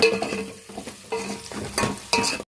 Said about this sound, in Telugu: ఉల్లిపాయలు మొత్తం అయితే బాగా బ్రౌన్ లో వచ్చేంత వరకు అయితే ఫ్రై చేస్తున్నాను